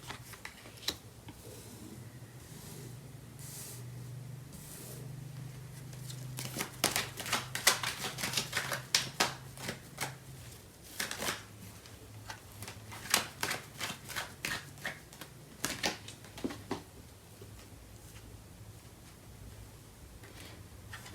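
Tarot cards are shuffled by hand in a quiet room, a soft riffling and papery slapping that comes in bursts, busiest in the middle and later stretches, close and fairly faint with no talk.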